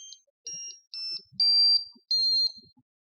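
An Arduino-based touch capacitive piano replays recorded notes: a short series of five electronic tones, each a clear sustained beep at rising or shifting pitches, played one after another with brief gaps.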